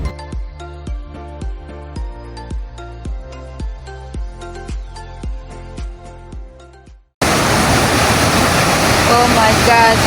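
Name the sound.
raging river at Pulang Bato Falls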